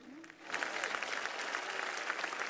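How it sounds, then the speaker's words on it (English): Audience applause at a Mahashivratri celebration for vocalist Sandeep Narayan and Project Samskriti, rising from a quieter start into a full, steady, dense ovation from a large crowd. "Please give them a round of applause,"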